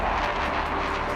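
Steady, loud broadband roar of a Dassault Mirage F1 jet aircraft, a continuous engine rush filling the brief moment with no pauses.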